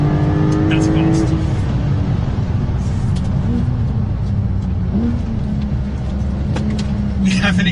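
A 2021 Porsche 911 Turbo S accelerates hard around a tight, twisty test track, its engine a loud, steady roar with shifting pitch and someone talking over it throughout.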